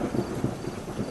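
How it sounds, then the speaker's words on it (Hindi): Heavy rain with low rolling thunder outside a house, a steady dense rumble and patter continuing throughout at moderate level, with no voices. "बाहर जोरों से बारिश हो रही है"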